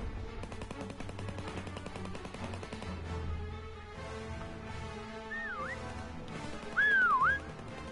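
Whistle taunt in the Call of Duty WWII Prop Hunt video game: two short swooping whistles late in the clip, over steady distant gunfire and rattling machine-gun bursts.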